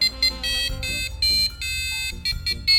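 Arduino passive buzzer playing the Happy Birthday melody: a sequence of shrill, electronic square-wave tones, each note held briefly with short breaks, loud and close, no voices.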